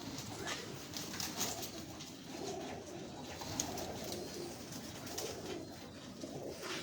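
Soft pigeon cooing repeats against a steady background hum, with low murmuring coos continuing throughout at a moderate, even level.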